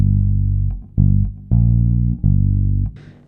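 Fretless bass plays a root G then a minor third above it, four sustained low notes with sliding pitch, loud and alone, ending in a brief scrape.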